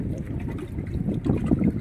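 A small fishing boat moves steadily across water, with a low engine-like rumble and soft splashing that stays constant throughout.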